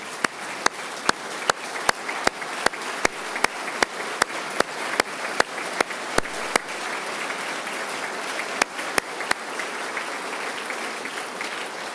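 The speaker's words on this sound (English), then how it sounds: "Please also stand so we can give you a round of applause." Sustained applause fills a state legislative chamber gallery during a governor's State of the State address, a broad, even roar of many hands, with louder single claps standing out at regular intervals across twelve seconds.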